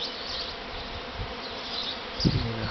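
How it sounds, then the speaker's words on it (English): A honey bee swarm arrives at a veranda near midday, a dense, even drone of countless wings with a brief louder buzz of one bee passing close. "And a whole lot of bees."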